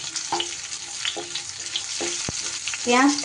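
Chopped onion fries in a pan with spices, a bright sizzle broken by several stirring scrapes and a sharper clatter near the end, no talking.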